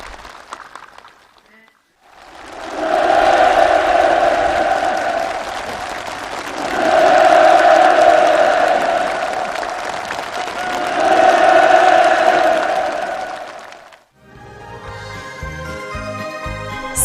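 A large crowd at a housewarming ceremony for new homes breaks into loud, sustained, enthusiastic applause and cheering that swells in three waves and then cuts off, with brief music before and after.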